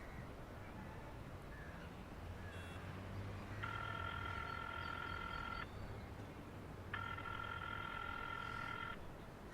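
A phone ring tone sounds in two long bursts separated by a pause, ringing on unanswered over a steady background hum.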